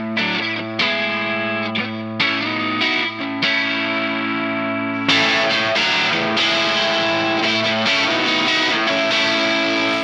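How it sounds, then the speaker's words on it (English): J-Craft electric guitar through an Underdog Audio amp on crunch with light reverb and delay, playing a distorted riff of sustained chords and picked notes that ring and overlap, loud and close with no talk. "Here's the J-Craft plugged into my Underdog Audio amp in crunch mode, no fancy effects, just a little bit of reverb and delay"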